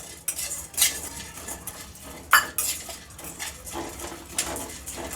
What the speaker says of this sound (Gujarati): અને આ બધા સીડ શેકી લઈશું આપણે પમ્પકિન સીડ થોડા મોટા હોય એટલે એને પહેલાં નાખીશું સનફ્લાવર સીડ્સ નાખીશું